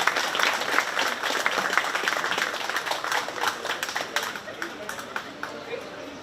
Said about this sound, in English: Let's give all 4 of these kids a big round of applause.